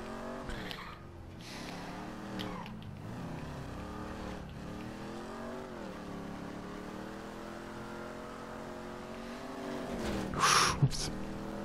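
A car driven in the online game GTA V Online, its engine humming steadily with rising and falling revs throughout, ending in a brief sharp burst near the close.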